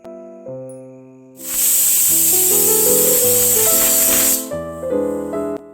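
A pressure cooker cooking vegetable pulao lets out a single loud, sustained steam whistle lasting about three seconds, with music playing underneath throughout.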